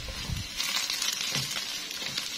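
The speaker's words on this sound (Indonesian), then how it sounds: "Aku masukkan dulu, aku goreng sedikit setengah matang biar rasanya itu gurih-gurih enyoy." Dried tiny shrimp (udang rebon) frying half-done in a pan, a steady close sizzle with a few soft stirring scrapes, no talking.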